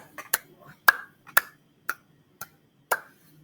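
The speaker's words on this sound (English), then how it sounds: "Let's see your alligator clap." Hand claps from a class of children led through a picture-book reading, an alligator clap with several sharp, irregular claps close by, some paired, over faint room noise.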